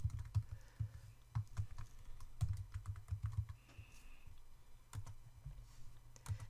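Keys tapped on a computer keyboard to enter folder information, with an uneven run of light keystrokes and occasional heavier thumps, close up, steady and unaccompanied by speech.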